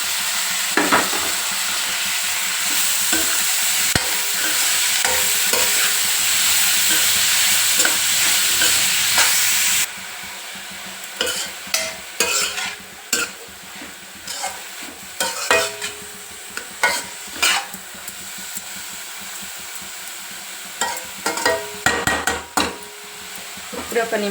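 Grated radish frying in hot oil, a loud continuous sizzle for the first ten seconds, then a quieter pan with repeated sharp scraping and stirring clatters.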